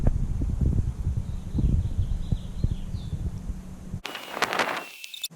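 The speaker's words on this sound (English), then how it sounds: "we keep on getting little gusts of wind" Outdoor wind gusts buffet the microphone in a low, rumbling rush that rises and falls for several seconds before cutting to quieter ambience.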